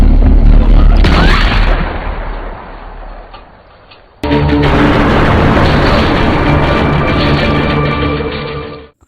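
A loud booming gunshot in a Korean film, a heavy blast that decays over a few seconds before a second sustained roaring impact cuts in abruptly and rumbles on.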